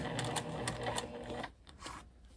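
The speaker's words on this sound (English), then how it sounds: "I'm just going to sew a little bit further to meet up to that needle, stretching a little bit further on that fabric" A sewing machine stitches a curved fabric seam, its steady rapid motor whir running close and loud, then stopping partway as the needle halts.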